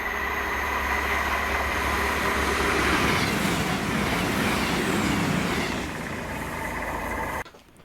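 A CrossCountry Class 221 diesel unit, 221132, passes on the Aberdeen to Edinburgh line at Monifeith with a loud sustained roar and wheel rumble that swells, eases near the end and then cuts off.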